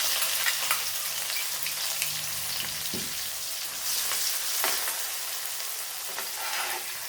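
Sliced onion frying in a pan for a crab gravy, a dense steady sizzle with a few stirring scrapes and bumps, close and continuous, with no voices.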